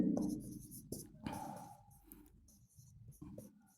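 Pen or marker scratches across a board as a teacher writes out an equation in a maths class, quiet, close strokes in short bursts with small pauses between them.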